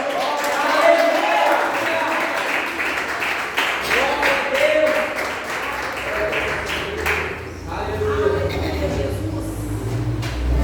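A church congregation claps during a Wednesday worship service, a dense, steady patter of many hands filling the room, with voices and music-like tones mixed underneath throughout.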